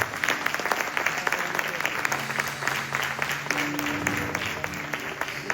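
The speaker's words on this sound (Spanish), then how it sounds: "¿Alguien le da un aplauso a la sangre de Cristo o no?" A church congregation claps together in steady, rhythmic applause that carries through the whole stretch, with faint voices and a held tone mixed underneath.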